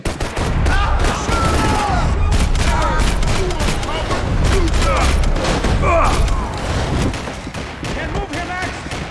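Dense, loud gunfire in Max Payne 3 fills nearly the whole stretch, with shots and bursts overlapping in a chaotic firefight, as voices speak over it.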